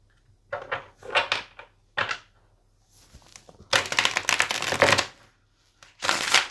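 Tarot cards being shuffled in bursts, with soft riffling and slapping at close range, brief pauses between passes and a longer, louder shuffle near the end.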